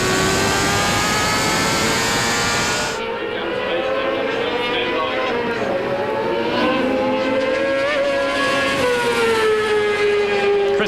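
600-class racing motorcycles at Hampton Downs howl at high revs, a loud, steady engine whine that rises and falls with gear changes as the bikes circulate, with a sharp drop in the upper tones early on.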